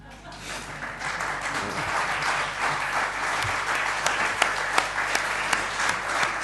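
An audience after a cinema lecture on film music breaks into applause that swells within a second and stays steady, with a few sharper claps standing out near the end.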